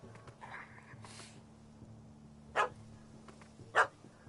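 Dog barking in The Witcher 3, two short loud barks about a second apart over a low game ambience, with faint talk and a soft whimper earlier.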